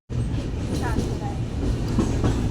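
A moving train crosses Farakka, giving a continuous loud rumble with a faint clickety rhythm of the wheels, heard from inside the carriage.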